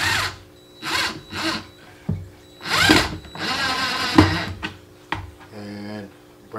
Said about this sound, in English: if you got a power drill, that's going to be your best way to go.